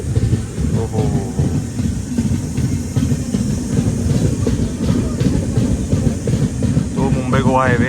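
From inside the Konkan Kanya Express as it runs on the rails, a loud, continuous rumble carries rhythmic clickety-clack of the wheels, while people talk nearby.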